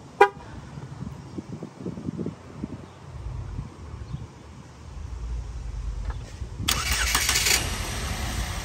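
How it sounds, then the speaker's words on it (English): A 2016 Chevrolet Equinox LT starts by remote starter: a short horn chirp sounds first, a quiet idle-like rumble follows, and then the engine cranks and fires up nearby. "So the remote starter for you to see. So it goes like this."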